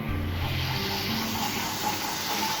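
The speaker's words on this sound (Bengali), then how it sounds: "মশলাটা ভালো করে কষিয়ে নেব।" Spice paste sizzles and fries in mustard oil while mochar dhokar dalna, a Bengali banana-flower and lentil-cake curry, is being made, giving a steady, even hiss throughout with no speech.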